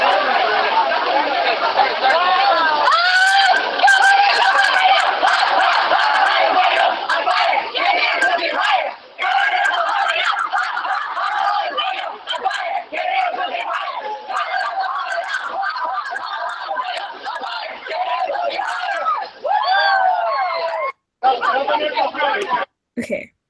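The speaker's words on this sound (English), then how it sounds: "this is an example of the Paradise So Hot Right Now cheer" A large group loudly chants and yells the Paradise So Hot Right Now cheer at a Circle K spirit event, an intense, sustained, close crowd chant with shouted bursts and a few brief breaks.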